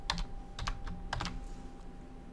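Several quick bursts of keys typed on a computer keyboard while entering a password during a manual WordPress install, clustered clicks in three short groups, close and fairly quiet, with no talking.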